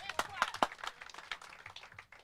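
Scattered claps from a home crowd at a lawn bowls match, an under-30 inter-district semi-final, as a few sharp hand strikes stand out near the start and then thin into a light patter mixed with voices.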